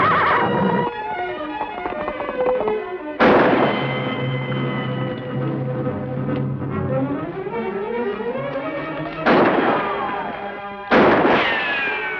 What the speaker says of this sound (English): I wonder who's firing at us.